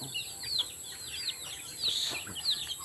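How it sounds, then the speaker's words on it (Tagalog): High, thin peeping from young chicks in a backyard flock, a string of repeated chirps, some overlapping, heard fairly close against quiet outdoor background. "Nandiyan yung aking mga sisiyo."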